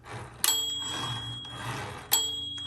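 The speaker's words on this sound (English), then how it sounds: "There's a nice strong bell." The carriage bell on a 1960s Smith Corona Electra 210 electric typewriter rings twice, with sharp, bright dings and a ringing decay, over a low motor hum.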